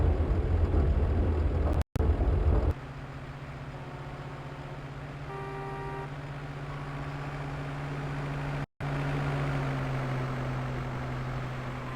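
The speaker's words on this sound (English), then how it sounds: "The KiHa 31 accelerates smoothly with the throttle increase." Diesel engine of a KiHa 31 railcar in a train simulator game, a steady droning hum with rising tonal harmonics as it accelerates, heard alone, fairly loud and even.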